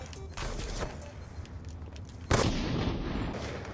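A gunshot rings out in Black Ops 2, a sharp loud crack with a short burst of noise that follows, over faint background game sounds.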